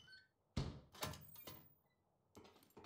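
Door in the video game SCUM: several heavy thunks and clunks in an irregular sequence, with a loud opening hit followed by fainter knocks and a scrape.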